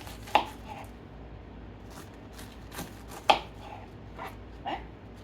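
Cabbage being sliced thin with a knife for homemade coleslaw, giving a few sharp, spaced chopping thuds against a quiet background with soft rustling between cuts.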